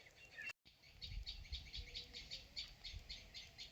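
Birds chirp in the morning in a rapid, evenly repeated series of bright calls that carries on steadily and fairly close, with no talking.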